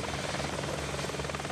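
A military helicopter deployed from the French amphibious assault ship Tonnerre drones with a loud, steady rotor and engine roar that fills the whole moment without a break.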